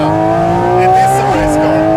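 Porsche GT4 RS engine revving high, a loud, bright, motorcycle-like whine with strong steady harmonics that dips slightly mid-clip and climbs again, heard close from inside the car.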